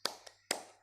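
Two sharp hand claps of a children's spirit cheer clap, the first followed by a lighter tap, then a second loud clap, close and clear with no talking.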